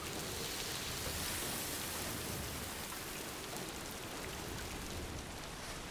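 Timefall rain in the video game Death Stranding 2, a steady dense downpour hissing across the ground with scattered droplet taps, even and enveloping with no voices over it.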